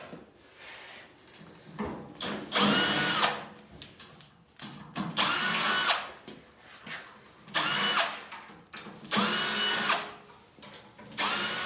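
A power drill backs screws out of the firebox of a Masterbuilt 560/1050 grill in four loud, close whirring bursts separated by short pauses and quieter handling noise.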